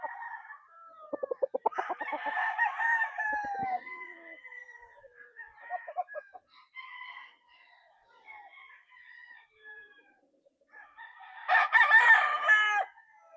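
A white-legged gamefowl brood stag crows on a game farm, several loud, drawn-out cock-a-doodle-doo calls with clucking between them, a further burst of crowing near the end, and someone talks briefly at the start.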